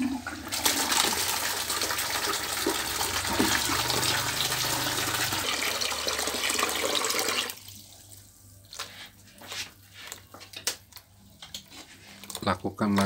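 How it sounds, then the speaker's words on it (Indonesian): Water pours steadily to rinse a resin exchanger during its activation and regeneration, a continuous close rush that stops partway, followed by quieter splashes and drips with a voice talking. "Sudah, lalu kita bilas."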